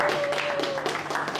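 A roomful of sales bootcamp participants clapping for themselves at the end of a first semester, a dense steady patter of applause with a sustained tone running beneath.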